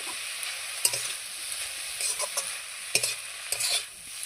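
Leafy greens with salt and turmeric fry in a pan with a dense steady sizzle, cut by several quick scraping stirs of a spatula against the metal, close and unaccompanied by speech.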